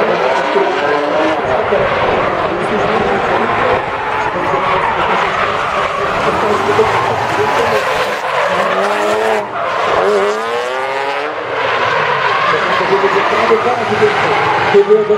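BMW M3 drift cars at a Polish drift championship round on the Bemowo track, with loud sustained engine revving and rising, falling tire squeal throughout as they slide together, while a commentator talks over the noise.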